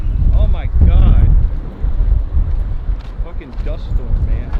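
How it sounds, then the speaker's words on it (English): Gusty wind from a dust storm roars and buffets the microphone in close, uneven surges, loud and rumbling, while people talk over it. "Fucking dust storm, man."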